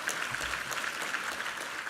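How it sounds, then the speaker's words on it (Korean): A church congregation claps through a short, dense burst of applause at a Sunday worship service, steady and moderately loud with no voices over it. "우리 하나님께 감사와 영광의 박수 올려드리겠습니다"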